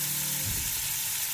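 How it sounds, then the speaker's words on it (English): Vegetables stir frying in a hot pan, a steady close sizzle with a brief stirring scrape partway through, no voices. "Just let it, stir fry for 2-3 minutes, and then we'll take it out."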